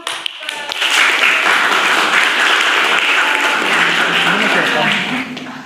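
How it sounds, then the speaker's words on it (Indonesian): Students in a classroom applaud after a group presentation, with a dense, loud burst of clapping that builds quickly and holds steady for several seconds before tapering off. "Ya, tepuk tangan dulu, Bun."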